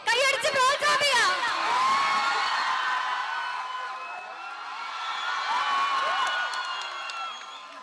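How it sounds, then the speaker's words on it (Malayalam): A college crowd claps and cheers for a visiting film team, loud dense applause with whoops and shouts that swell at the start and hold steady throughout. "കൈയടിച്ച് പ്രോത്സാഹിപ്പിക്കാം."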